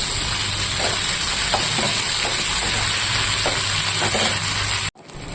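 Kundri (ivy gourd) frying in a pan on a home stove gives a steady, close hiss and sizzle that stays even for about five seconds, then cuts off abruptly.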